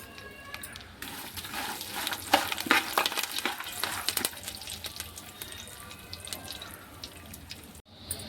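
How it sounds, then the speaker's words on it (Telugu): Rice-flake mixture with raisins, dried red chillies and curry leaves is stirred in a pan, giving a run of scraping, clattering and faint sizzling that trails off near the end. "కిస్మిస్, ఎండుమిర్చి, కరివేపాకు అన్నీ వేసి ఒకసారి కలిపేసుకుందాం."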